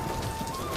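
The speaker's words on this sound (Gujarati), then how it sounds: "વરસાદ વધી રહ્યો છે" Rain falls steadily in a brief, even hiss of drops on surfaces, close and unbroken, with no voices.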